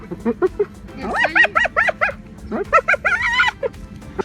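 A person imitates a hyena's laugh with rapid, rhythmic yipping bursts in two runs, loud and close, the voice rising and falling in short whooping pulses.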